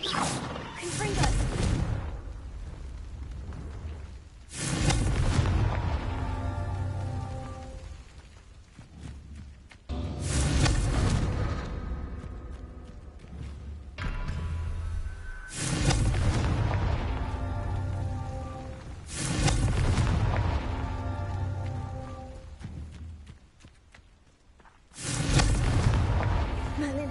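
Confringo spell explosions in Hogwarts Legacy, a series of about six heavy booming blasts every few seconds, each with a roaring decay, loud and close, with a voice talking in between.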